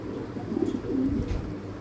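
A male pigeon coos close by, giving a few soft, low, rolling coos over light background noise.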